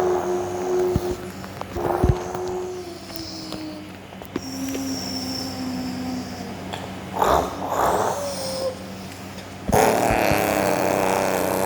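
A voice imitates the stuttering, rumbling blat of a semi truck's Jake brake, with drawn-out growling bursts and pitch-sliding tones over a background drone that rise and fall across several loud passes.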